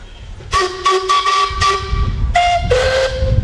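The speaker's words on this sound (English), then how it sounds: "I want to hear the whistle." A steam traction engine whistle blows in several short bursts, then two longer sustained blasts drop in pitch, loud and close over the rumbling engine, at a threshermen's reunion parade in Austin, Manitoba.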